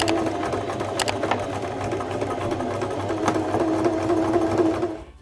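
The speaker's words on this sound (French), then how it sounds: "on fait juste notre petite couture sur le haut de notre petite partie" A sewing machine runs steadily, stitching a straight seam across fabric for a Christmas cutlery-holder project, a continuous close mechanical whir that stops abruptly near the end.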